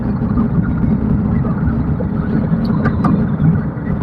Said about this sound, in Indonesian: justru lebih kedengaran suara mesin